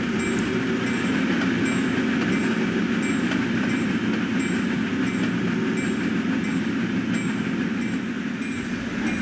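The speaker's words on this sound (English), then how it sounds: "we see the excursion train backing into the Jersey City engine terminal" An excursion train hauled by diesel locomotives rumbles past at close range in New Jersey, with a steady mechanical drone and faint wheel clatter, plus a high, thin whine running underneath.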